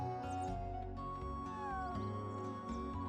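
Cat meowing inside the video game Chrono Cross, a few drawn-out meows set over the game's steady music and ambient tones, moderately clear and with no talking.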